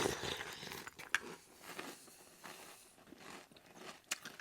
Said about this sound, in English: The actual cereal itself has a very puffy like feel, very airy and crunchy.